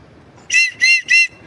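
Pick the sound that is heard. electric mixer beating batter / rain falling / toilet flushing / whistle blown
whistle blown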